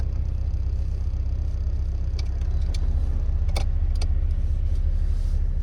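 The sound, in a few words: car engine idling at 1000 RPM with new NGK plugs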